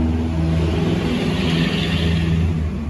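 The engine of a 2021 Honda Wave 110i motorcycle runs at a steady, close, loud idle with a continuous low rumble and no noticeable revving.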